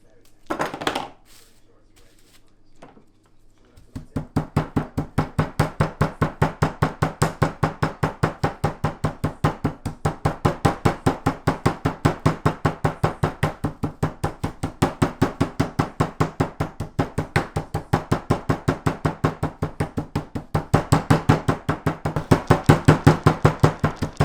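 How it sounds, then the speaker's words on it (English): Rapid, evenly spaced thumps as a rolling pin pats chicken flat under film, a steady drumming rhythm that continues for many seconds after a brief pause. "you just want to pat it down with the rolling pin"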